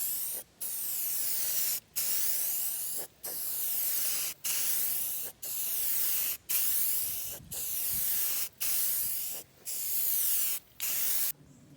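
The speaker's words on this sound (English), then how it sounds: "I'm going to spray with primer" Primer sprayed onto a car outdoors in a backyard: repeated bursts of steady, loud hiss, each a second or so long, separated by brief pauses in an even rhythm, with no talking.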